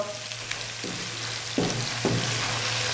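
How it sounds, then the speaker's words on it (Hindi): Mutton karahi masala with garam masala and black pepper frying in a pan, a steady low sizzle with a few louder stirring scrapes, close and alone. "मज़ीद इसको 3 से 4 मिनट के लिए अच्छी तरह भून लूँ"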